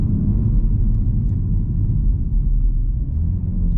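Inside a moving BMW X2 M35i micro coupe SUV, a deep, steady engine rumble and road drone fill the cabin continuously, loud and unbroken with no talk.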